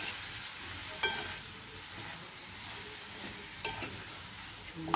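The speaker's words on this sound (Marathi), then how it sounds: "आपण फ्राय करून घेऊ भाज्या." Vegetables frying in oil for Chinese momos, a moderate steady sizzle with a few sharp clinks of a spoon on the pan and scattered stirring sounds.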